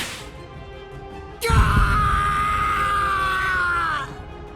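A man screams in pain in the BLEACH Rebirth of Souls video game, one sudden loud sustained cry lasting about three seconds after a sharp impact, then cutting off.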